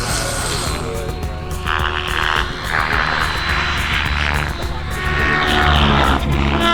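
A radio-controlled model airplane flies in strong, intense wind at a club fun-fly, its engine or propeller droning steadily at mid distance while wind noise rumbles underneath throughout.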